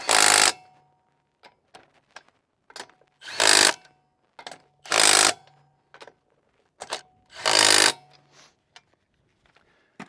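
Lug nuts on a Sprinter van wheel are tightened in a crisscross pattern. Each nut gets a short, loud, whirring mechanical burst, about five strong ones in all, separated by quiet gaps and small clicks.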